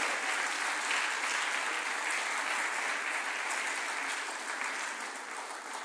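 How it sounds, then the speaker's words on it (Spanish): A church congregation applauds together in steady, dense clapping that fills the space, holding loud and even for several seconds before easing slightly near the end. "Dale el aplauso al Señor."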